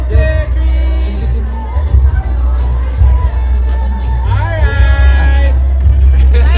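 Fans screaming and cheering as Filipino actors Inigo Jose and Sofia Pablo walk into a public event, a loud continuous crowd roar with rising shrieks and whoops, dense babble and a low rumble underneath throughout.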